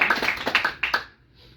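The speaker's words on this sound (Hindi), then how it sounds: "एक बार जोरदार तालियां बजाइए आप लोग" A short burst of close, uneven hand claps, several quick slaps in a loose rhythm, fading out after about a second.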